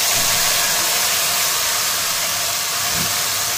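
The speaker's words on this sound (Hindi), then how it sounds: "टमाटर को हमें तब तक भूनना है जब तक तेल मसाले से अलग ना हो जाए।" A paste of two medium tomatoes and green chillies sizzles hard in hot oil over a high flame. The hiss is loud, dense and continuous, holding steady for a few seconds with no voices.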